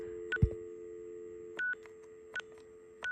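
Keypad tones from an AT&T 213 Trimline telephone: three short DTMF beeps spaced over a few seconds, each a clear steady tone pair, heard alone with a low hum and a brief handling knock at the start.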